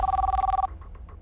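A telephone rings once in a cab service office, a steady loud electronic trill lasting about half a second, then cutting off into quiet room noise.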